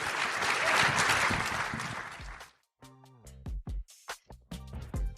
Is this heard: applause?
yes